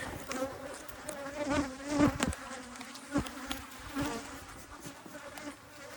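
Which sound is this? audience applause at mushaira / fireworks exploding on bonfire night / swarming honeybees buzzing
swarming honeybees buzzing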